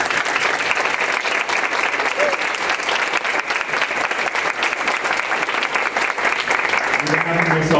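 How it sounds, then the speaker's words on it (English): A roundtable audience gives panelists a loud, steady round of applause, dense clapping from many hands that holds evenly throughout and tapers slightly at the very end. "Let's give Finn and our panelists another round of applause."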